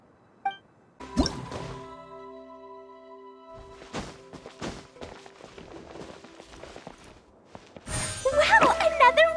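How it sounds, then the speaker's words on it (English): A water droplet squeezes out of a wall in a video game, heard as soft drips and liquid squishes with scattered thumps, growing busier and louder near the end over a steady game tone. "another water droplet just came out from the wall!"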